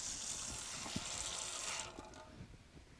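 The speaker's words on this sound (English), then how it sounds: "Let me rinse the tomatoes." Three tomatoes rinsed under a running kitchen tap, a steady broadband rush of water for about two seconds, then stopping, leaving a few small splashes and handling knocks.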